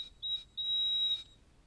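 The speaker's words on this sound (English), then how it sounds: "So we have a piezoelectric buzzer" Piezoelectric buzzer in a squishy dough circuit giving two high-pitched beeps, a short one followed by a longer sustained tone, fairly faint and clean.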